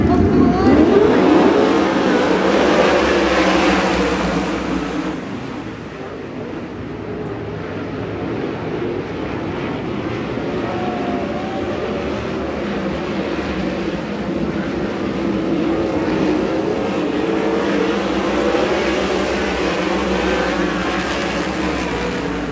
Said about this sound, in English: To kick off Thursday night, a Trophy Cup heat race is underway.